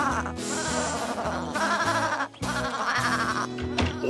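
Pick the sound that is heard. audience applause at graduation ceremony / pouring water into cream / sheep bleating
sheep bleating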